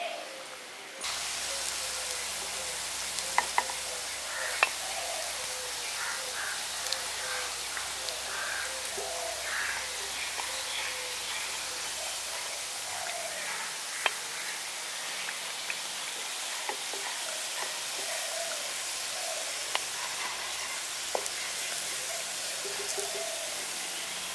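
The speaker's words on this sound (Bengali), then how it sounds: "এখানে বিস্কুটগুলো লালচে করে দুপাশটা সমানভাবে ভেজে নিয়েছি।" Biscuits frying in hot oil in a pan give a steady, dense sizzle that runs the whole time, with scattered sharp pops and crackles over it and no talk.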